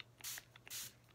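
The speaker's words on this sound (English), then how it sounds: "I'll spray it just to make sure that it stays fresh and wet" A spray bottle mists water onto a wet paint palette during rosemaling folk painting, giving two short hissing bursts close by, separated by faint handling noises.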